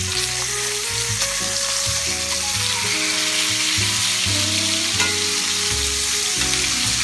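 Ribeye steaks frying in a hot pan give a loud, steady sizzle that continues throughout, with a background music bed running underneath.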